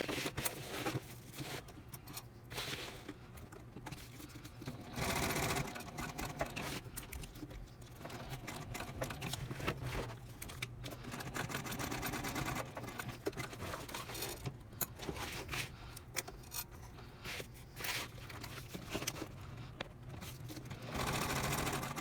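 A sewing machine runs in bursts, stitching up, across and back down a tall tote bag panel, its close, steady mechanical whir broken by short pauses and restarts, with no voices.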